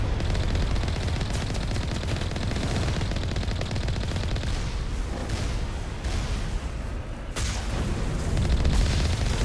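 Gunfire from geth turrets and small geth units in Mass Effect, dense and continuous, with rapid automatic bursts and booming impacts blending into steady loud combat noise.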